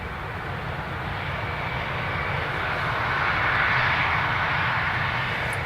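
An airliner rolls out after landing at Dublin Airport with its thrust reversers open but no reverse thrust applied, giving a steady, loud engine roar that swells slightly midway.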